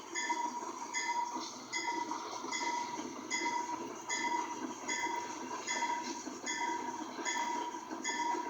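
A Conrail C30 diesel locomotive in the Trainz railroad simulator rumbles along in a steady drone, marked by regular rhythmic clicks and clatter from the rails, with no talking over it.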